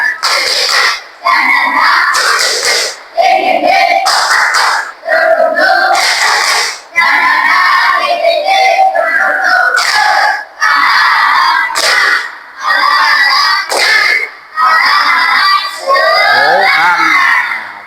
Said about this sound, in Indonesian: yuk kita tepuk semangat dulu. Ayo. 1, 2, 3. Tepuk semangat.